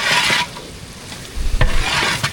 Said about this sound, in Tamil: சிக்கன் பிரியாணிக்கு வெங்காயம் தக்காளியும் நல்லா வதக்கிட்டு இருக்கு